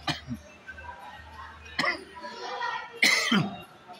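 A person coughs in three sharp separate bursts spread over a few seconds, close and moderately loud, with a little breathing between them.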